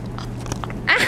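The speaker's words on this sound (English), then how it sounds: "You're licking the camera." Wet, close-up smacking and licking noises as a puppy licks the camera, a quick flurry of sloppy tongue sounds.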